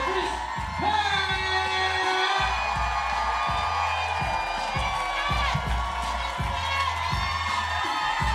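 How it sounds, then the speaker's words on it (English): A live comedy club audience cheers, whoops and shouts over a booming music bed, the crowd noise steady and loud throughout. "Start clapping right now."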